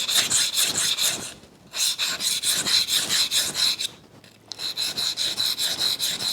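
A knife blade is drawn repeatedly along a sharpening steel, giving rhythmic raspy metallic strokes in three quick runs separated by brief pauses, close and clear with no talking.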